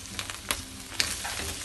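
Turnip cake mixture frying in a pan, a steady close sizzle with small crackling pops throughout.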